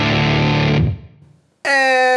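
A heavily fuzzed electric guitar chord rings out and cuts off, followed by a brief pause, then another buzzy distorted chord.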